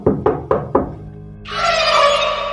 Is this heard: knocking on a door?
yes